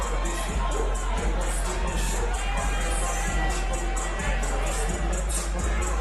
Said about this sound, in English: As the crowd came completely unglued here